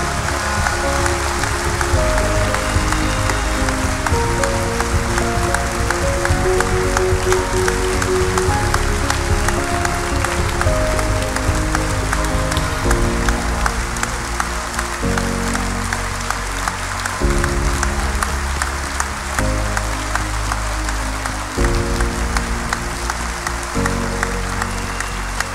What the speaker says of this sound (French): Cette fois-ci, je vous demande de les applaudir aussi fort que vous pouvez.